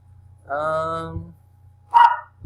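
A dog barks twice at a moderate distance, a drawn-out first bark and a sharper second one, over a steady low hum with no one talking.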